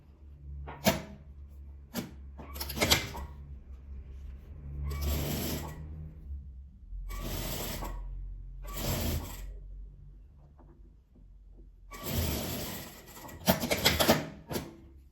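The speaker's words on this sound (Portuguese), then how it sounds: "Vou posicionar e passar uma costura." A sewing machine joins two fabric pieces for a mug rug coaster, running close in several short and longer bursts separated by quiet gaps with faint handling clatter, and no talking.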